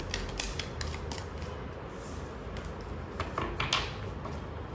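Tarot cards are shuffled close by in quick irregular snaps and flicks over a faint steady background hum, with no talking.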